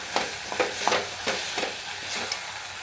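Ginger and garlic paste sautéing in a pan, with a soft frying sizzle and repeated scraping stirs from a utensil, close by and without talk.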